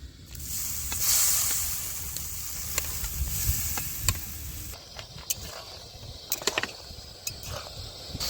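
Water poured into a pan of frying potatoes gives a loud burst of hissing sizzle that slowly settles into a softer bubbling fry, with scattered clicks and clanks of a utensil against the pan.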